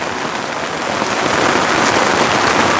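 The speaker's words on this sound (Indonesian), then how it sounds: "Di saat ini ada cuaca yang sedang hujan yang deras, cuaca yang buruk." Heavy rain pours down in bad weather, a dense, loud, steady hiss of drops striking surfaces that continues unbroken throughout with no voices.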